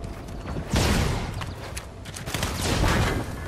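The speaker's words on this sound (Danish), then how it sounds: "Jeg bliver skudt i ryggen af dem herovre." Gunfire in the Fortnite video game with Star Wars weapons, a dense burst of loud, rapid shots in two main volleys over a few seconds.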